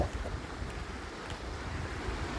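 Canal water rushes out of an underground channel under pressure, giving a continuous, close, turbulent roar with low rumbling and wind buffeting across the microphone.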